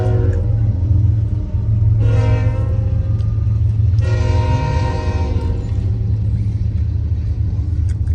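A train passes a railroad crossing with a heavy continuous rumble of wheels on rails, and two long loud horn blasts sound over it, heard close from a car waiting at the lowered gates.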